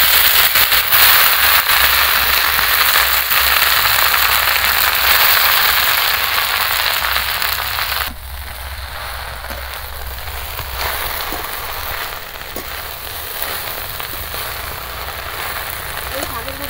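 Susni greens fry in hot oil with a loud, dense crackle and sizzle that softens partway through and continues as a steadier hiss.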